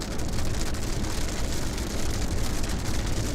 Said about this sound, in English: And now the rain has slowed down a little bit for us.